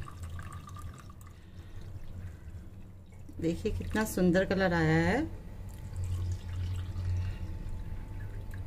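Cold water poured into glasses holding spoonfuls of sharbat premix powder, a close gurgling pour lasting a couple of seconds with rising pitch as the glass fills, while someone talks before and after.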